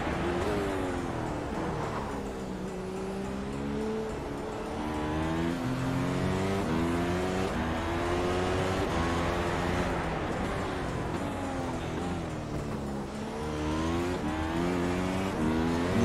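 Formula 1 race car engine in the iRacing simulator, high-pitched revving rising and falling through gear shifts, loud and continuous with no talk over it.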